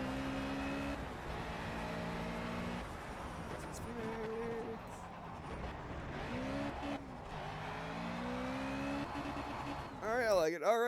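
An Ariel Atom is driven on a road in the Project CARS racing game, its engine revving up and down with shifting pitch and tire noise throughout, ending in a sharp wavering whine.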